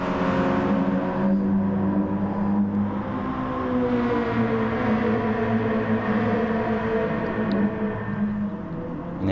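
Race car engines in Gran Turismo Sport at Fuji, a sustained loud whirring roar with shifting pitch as another car draws past and closes in behind, with no talk.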